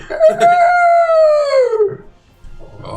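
A human voice imitates a monster's owl-like shriek during a tabletop Dungeons & Dragons session: one loud, sustained wavering cry that slowly drops in pitch and fades out after about two seconds, followed by quiet rustling.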